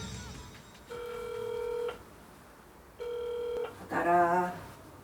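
Telephone ringback tones sound twice as steady buzzing tones about a second long separated by a gap, followed by a voice speaking over faint room noise.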